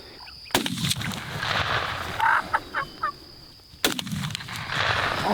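Wild Florida turkeys gobble in short bursts, a cluster of calls at middle distance over a quiet outdoor background, framed by a couple of sharp clicks or thumps.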